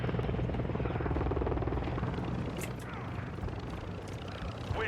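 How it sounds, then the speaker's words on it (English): A friendly overwatch helicopter in Call of Duty: Modern Warfare II thrums steadily overhead with a rumbling rotor beat. It is loud and sustained, and it eases slightly toward the end among faint battlefield noise. "Friendly Overwatch helo in the area."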